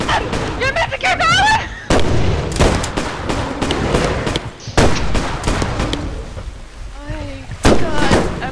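Rapid gunfire in the Bigfoot video game comes as loud, close bursts of shots separated by brief pauses, with excited voices talking over it.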